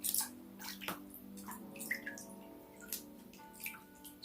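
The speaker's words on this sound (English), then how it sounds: "You can rake it up and down the water, back and forth" Fingers rake gently back and forth through calm water, producing soft sloshes and scattered light drips, close and quiet with no voices.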